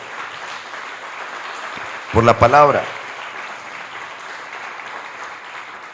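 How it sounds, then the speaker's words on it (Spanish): Church congregation applauding during a Spanish-language sermon, a steady wash of clapping that runs throughout while a voice speaks briefly over it midway. "Denle un aplauso a Dios"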